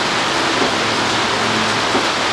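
Steady rain falls outside in a dense, even hiss, loud and close throughout with no pauses.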